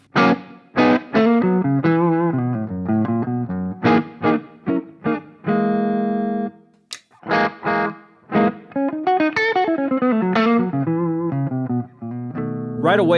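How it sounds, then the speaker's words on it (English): A Joe Bonamassa Les Paul electric guitar played on the neck pickup with reverb off gives loud, close runs of picked notes and bends, with one long held chord ringing out midway and quick phrases before and after. "let's go to the neck pickup"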